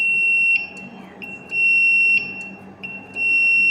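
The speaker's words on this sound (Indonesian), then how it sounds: "Saat kita kasih beban, buzzernya nyala" Buzzer on an Omron CP1E PLC circuit sounds when an inductive NPN proximity sensor detects a load, giving a loud steady electronic tone that cuts in and out in several bursts with faint background noise between.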